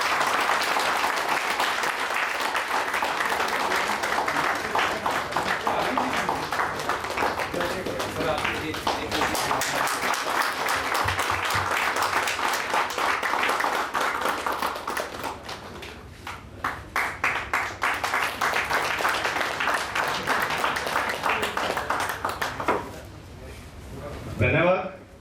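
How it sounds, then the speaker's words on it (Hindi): Sustained loud applause from the audience at a road transport association's annual general meeting, dense continuous clapping that briefly dips and swells again before tapering off near the end, with some talking underneath. "और आप सब लोग जोरदार तालियां बजाएं।"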